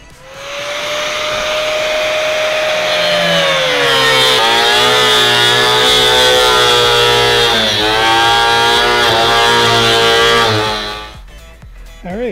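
A power tool cuts through a plastic basin for an aquaponics deep water culture build, a loud whining motor whose pitch drops and shifts as the blade bites, running about ten seconds before winding down.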